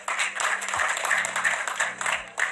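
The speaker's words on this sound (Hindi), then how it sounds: "ताली बजाइए जोर से।" A studio audience claps steadily for a couple of seconds during a Hindi TV news debate, a broad patter of many hands, fairly close and unbroken.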